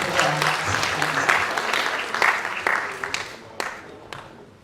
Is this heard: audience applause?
yes